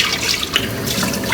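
Water running steadily from a kitchen tap into a sink, a continuous close, bright splashing stream with no pauses.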